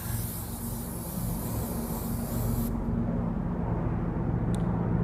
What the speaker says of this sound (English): spray her hair thoroughly